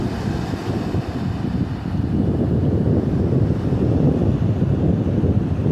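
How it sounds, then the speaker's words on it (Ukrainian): A very rough, stormy sea with strong wind, heard as a loud, continuous roar of surf and gusting wind buffeting the microphone throughout, with no voices. "Дуже-дуже бурхливе море."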